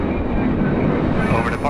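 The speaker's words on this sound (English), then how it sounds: "the 9 o'clock flight takes off" An American Airlines passenger jet takes off with a loud, steady engine roar that holds for under two seconds, and a voice can be heard over it.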